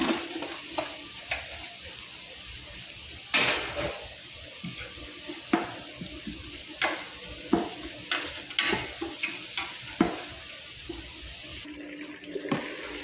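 Garlic sautés in a pan for pork steamed rice, a soft steady sizzle broken by repeated sharp clinks and scrapes of a utensil stirring, close and without talk.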